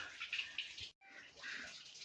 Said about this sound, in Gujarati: જે અવાજ પાણીનો આવે એ થોડુંક આગળ છે આ સાઈડ